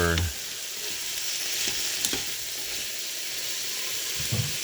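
Beef browning in a Crockpot Express multicooker for beef and barley vegetable soup gives a steady, close sizzling hiss, with a few soft stirring knocks and scrapes and no talking.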